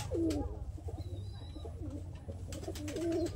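Malbay pigeons coo nearby in soft, throaty phrases at the start and again near the end, over a steady low background hum.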